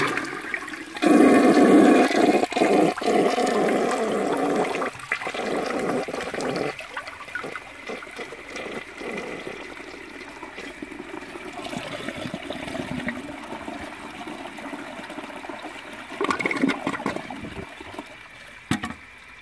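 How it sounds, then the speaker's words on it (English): A 1970 American Standard Cadet toilet doing a dry flush on an empty bowl: a loud rushing surge of tank water, then a siphoning gurgle tapering into trickling and hissing refill, heard close up without talk. "the bowl siphoned out on a dry flush"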